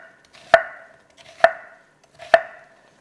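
Three evenly spaced, crisp knife chops through a peeled vegetable onto a cutting board, each a sharp close knock about a second apart, with quiet scraping between strokes while cooking a one-pot green curry chicken.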